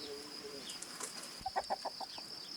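Chickens in a permaculture chicken run give a quick series of soft clucks, fairly faint over a quiet outdoor background with a steady high insect-like tone.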